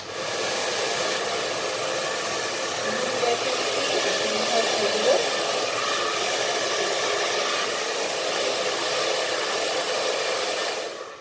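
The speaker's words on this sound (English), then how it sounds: "then just give a blow dry" A handheld hair dryer blows steadily and loudly up close for the whole stretch, a constant broadband whoosh while hair is combed forward and blow-dried at home for bounce.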